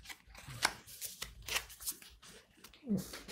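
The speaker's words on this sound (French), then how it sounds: "On va prendre cette carte qui est au-dessus" A tarot card drawn from the top of the deck, with soft papery slides and crisp card snaps close by, brief and quiet between pauses.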